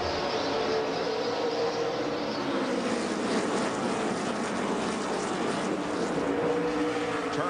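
A pack of NASCAR race cars roars at the start of the 2005 American Revolution 400, a loud, continuous, dense engine drone with shifting pitch and no talk over it.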